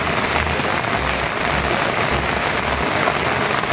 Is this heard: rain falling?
yes